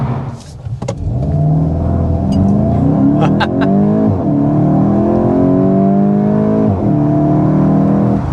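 A 2025 Volkswagen Golf GTI, front-wheel drive, accelerates hard with a loud, steady engine note rising through the gears and brief wheel spin at the launch, with shift dips midway and no talking.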